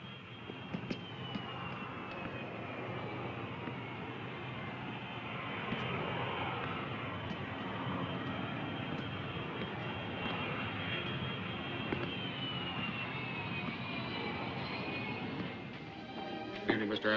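An airplane in a 1964 film scene drones steadily and evenly for the whole stretch, a continuous engine roar with a faint high whine, moderately loud and unbroken.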